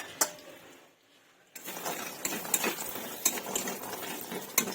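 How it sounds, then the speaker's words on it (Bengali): Lentil dumplings (bori) are stirred as they fry in oil in a wok. After a brief quiet moment, a metal utensil scrapes and clinks against the pan in repeated strokes over a soft background sizzle. "তেল দিয়ে কিন্তু এই যে বড়িগুলো আমি ভেজে নেবো"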